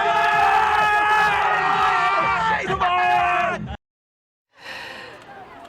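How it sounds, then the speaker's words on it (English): Football fans in Manchester gathered for the Euro 2020 final, a loud crowd roar of cheering, whooping and yelling that holds steady for nearly four seconds, cuts to silence, then resumes faintly. "Give us a big cheer"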